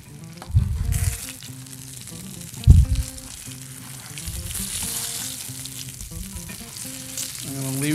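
Salmon sizzles in a hot pan with a steady, close frying hiss, broken by a few loud thumps and clatters as the fish is moved or turned, and soft background hum throughout.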